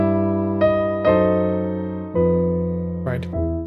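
A melody played on a keyboard instrument, a few sustained notes struck one after another with clear attacks and ringing decay, a quicker flurry near the end, close and clean with no talking.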